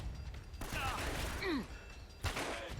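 Gunfire in the video game Uncharted, a sharp burst of shots with mechanical clatter and a whining ricochet-like sweep against game background noise, then another shot near the end.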